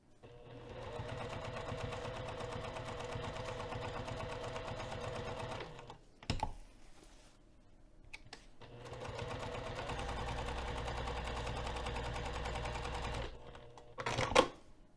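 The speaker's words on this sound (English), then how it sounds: "So I'm going to increase my stitch length to 4 millimeters for this top stitching, and I'm going to sew 1/8 of an inch away from the purple" A sewing machine top-stitches a bag at a 4 mm stitch length, running in two long steady whirring passes separated by a short pause with small clicks, and a brief clunk at the end.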